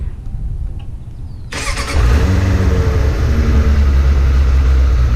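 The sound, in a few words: Suzuki GSF600 Bandit motorcycle engine with Delkevic exhaust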